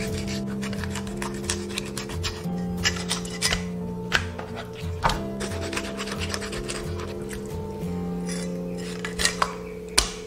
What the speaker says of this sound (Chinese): 把鱼骨斩成小块。